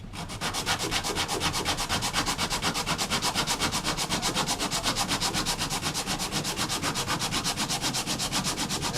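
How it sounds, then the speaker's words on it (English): Sanding a custom-built guitar back with 60 grit sandpaper, a steady rapid rhythmic scrubbing rasp that runs loud and continuous throughout with no voices. "So there's going to be some sanding going on here."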